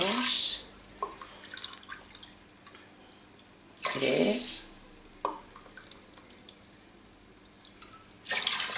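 Water is poured from a measuring cup into a pot of brown rice in a home kitchen, arriving in a few separate splashing bursts with quiet gaps between them.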